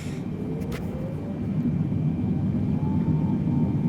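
A Boeing 777 taxis in Microsoft Flight Simulator 2020, a steady low engine rumble and whine that swells slightly, with a faint rising tone drifting through.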